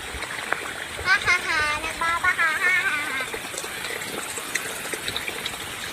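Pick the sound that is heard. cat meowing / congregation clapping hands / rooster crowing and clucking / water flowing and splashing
water flowing and splashing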